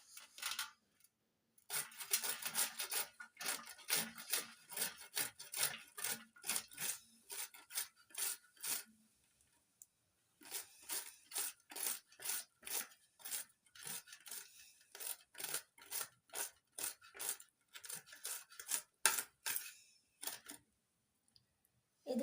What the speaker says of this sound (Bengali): এই গ্রেটারের সাহায্যে ফুলগুলো গ্রেট করে নেব